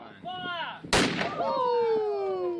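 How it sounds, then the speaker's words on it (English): A single loud, sharp boom from the main cannon at Fort Denison, the harbour fort in Sydney, fired at 1 p.m. Steady whistling tonal calls sound before and after the shot. "Perhaps one of the most noteworthy moves is to restore the 1 p.m. firing of its main cannon every day."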